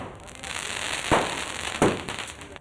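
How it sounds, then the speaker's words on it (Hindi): Fireworks crackle at a street celebration, with two sharp, loud bangs about a second apart over a constant background hiss and faint crowd noise. "कुछ लोगों ने आतिशबाजी भी की।"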